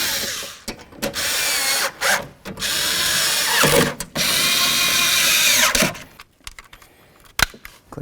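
A power drill drives bolts into the door panel of a 1988–2002 GMC Sierra 1500 pickup, sounding in several loud bursts of whirring separated by brief pauses, close by, ending with a few faint clicks.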